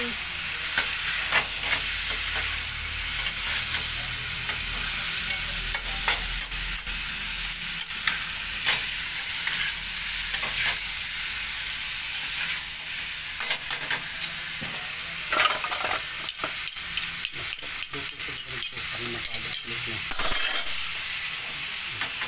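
Liver frying and being stirred in a pan while cooking Valenciana, a steady loud sizzle with repeated scraping stir strokes and occasional clinks, close and continuous with no talking.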